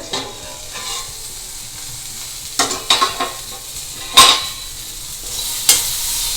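Spice powder of roasted red chillies and coconut stirred into a pan of cooked green sundakkai (turkey berry) curry: a soft steady sizzle under sharper spoon scrapes and clicks that come in short bursts, close and fairly loud.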